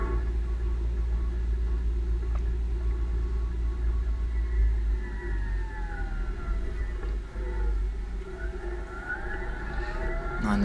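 A vehicle rolls along a bumpy, patched and potholed road, giving a continuous low rumble of tires and engine with small jolts. Faint rising tones drift in from the distance, and no one talks.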